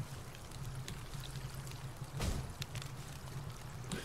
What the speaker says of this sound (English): at least I have my own little watering can